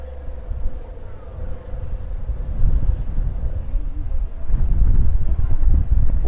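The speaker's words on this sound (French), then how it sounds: "Il y a un vent par contre," Strong wind rumbles and buffets the microphone in a hidden desert of dunes in the Dominican Republic, a loud, continuous low roar that swells toward the end.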